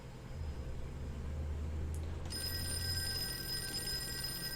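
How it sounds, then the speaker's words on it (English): Telephone bell ringing in a game setting, a bright electronic ring starting partway through and sustaining steadily over a low background hum, moderately loud. "Phone's gonna ring."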